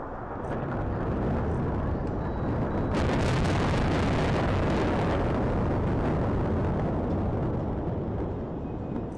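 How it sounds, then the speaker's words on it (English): A loud, rumbling blast from an airstrike in Beirut, Lebanon, rolls on as a sustained, dense roar that swells around the middle and stays heavy to the end, with no voices. "That was an airstrike in Beirut."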